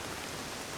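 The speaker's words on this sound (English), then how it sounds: "Although, the rain makes it quite a chore." Steady rain falling during a long walk toward a house near a harbour, a dense continuous hiss with no talk.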